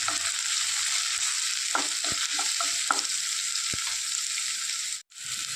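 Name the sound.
stirring chopped ginger, garlic and green chilli in a pan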